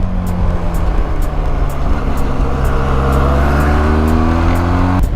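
Benelli TRK 502X motorcycle with its original exhaust accelerating hard, a loud, steady engine drone with rising pitch through the gears, heard close and continuous for the whole stretch with no talking.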